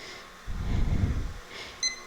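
A yoga timer gives a few short, high electronic beeps near the end while being set, after a soft low handling rumble; no talk is heard.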